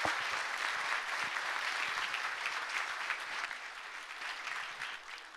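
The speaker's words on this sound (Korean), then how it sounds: "박수 한번 부탁드립니다" Lecture audience at a political talk in Busan gives a steady wash of applause, dense and even throughout, gradually easing toward the end.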